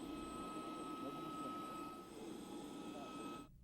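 Steady loud drone of a helicopter engine and rotor while a university museum team loads tools and supplies for a fossil recovery trip in interior Alaska, continuous for several seconds before cutting off abruptly.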